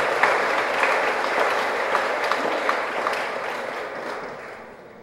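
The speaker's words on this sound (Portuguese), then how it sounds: "salva de palmas bem forte aí, as mulheres" A church congregation gives the women a strong round of applause, loud, dense clapping with a few sharper claps standing out, gradually thinning and fading over five seconds.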